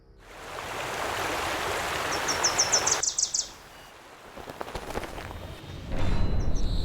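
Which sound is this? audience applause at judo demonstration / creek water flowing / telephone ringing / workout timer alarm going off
creek water flowing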